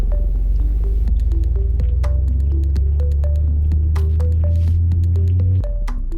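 A 125 cc paramotor engine with a 125 cm propeller runs at a steady, loud, low throbbing drone close by, its pitch shifting slightly before dropping near the end.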